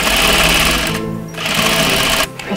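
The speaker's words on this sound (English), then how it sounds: "I actually start stitching the bodice all together." A sewing machine stitches the bodice of an 18th century dress, running loud and close in a steady continuous whir, with a brief pause near the middle before resuming.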